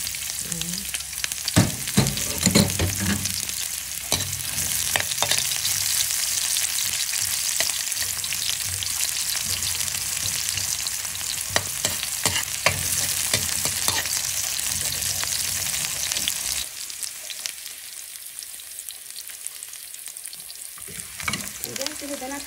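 Onions fry in a pan for ginataang sitaw, sizzling loudly and continuously with frequent stirring clatter, then the sound drops sharply near the end, leaving only faint crackling.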